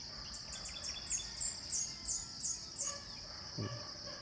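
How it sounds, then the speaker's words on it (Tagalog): Several short bird chirps repeat in a steady rhythm over a constant high insect drone at a campsite in Silang, Cavite, with a low brief thump near the end. "marami kang maririnig na huni ng ibon ditong paiba-iba yan"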